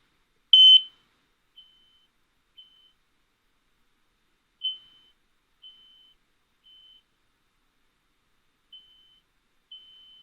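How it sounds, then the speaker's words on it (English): Smoke alarm sounding short high-pitched beeps in a temporal-three pattern: one loud opening beep, then fainter, evenly spaced beeps repeating across a quiet background with no talking. "for those of you who guess smoke alarms with the temporal 3 pattern, 3 beeps, you got it correct."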